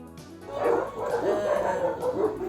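Many dogs at a shelter bark, yip and howl together in a continuous noisy chorus, moderately distant.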